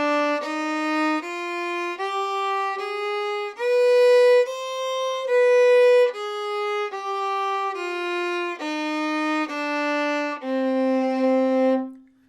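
A fiddle plays the harmonic minor scale, bowing about fourteen distinct notes stepping up and back down in a steady, clear line, close and alone.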